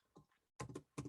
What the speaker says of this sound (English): So now I can type in